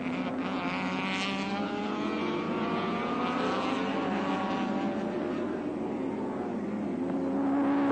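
Touring cars racing at Oran Park in 1983, including a red Mazda chasing George Fury, a steady multi-engine roar with rising and falling harmonic whine as cars pass at speed, continuous and moderately distant.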